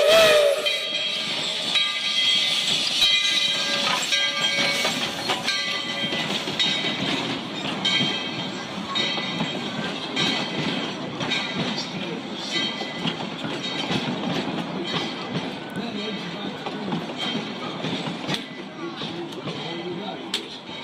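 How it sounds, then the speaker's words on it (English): A narrow-gauge steam train on the Tweetsie Railroad in the Smoky Mountains: a whistle blows early on, then a steady mix of hissing steam and rolling wagon rumble carries on loudly to the end. "He's also filmed narrow-gauge steam trains like Tweetsie Railroad in the Smoky"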